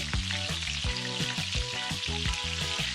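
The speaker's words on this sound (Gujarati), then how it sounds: "ડુંગળીને 1 થી 2 મિનિટ આપણે ધીમા તાપે ચડવા દેવાની છે." Steady, close sizzling of onions frying in a pan over low heat, continuous crackle throughout with a low rhythmic stirring or scraping pattern underneath.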